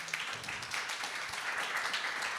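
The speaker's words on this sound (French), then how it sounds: "Je pense qu'on peut les applaudir de s'être ouverts." A church gathering gives brief applause to its youth group leaders. The clapping is faint and distant, a soft, even patter of many hands.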